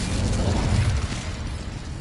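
Incendio fire spell cast in the Hogwarts Legacy video game, a loud, dense whooshing burst of flame with a rumbling low body that swells and then eases slightly over two seconds, close and without speech.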